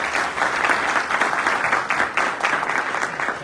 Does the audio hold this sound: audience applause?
yes